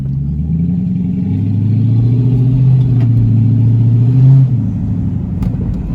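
A Dodge Charger Pursuit on its first drive after a new upper control arm is fitted, its engine droning steadily with a deep rumble that swells into a brief rev before settling back, heard alone with no talk.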